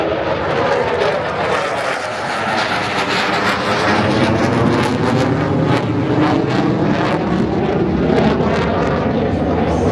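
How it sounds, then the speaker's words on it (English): Military aircraft flyover at Daytona International Speedway during the Coke Zero Sugar 400, a loud continuous jet roar filling the whole stretch, heard from the crowd with no speech. "Man, that was the flyover."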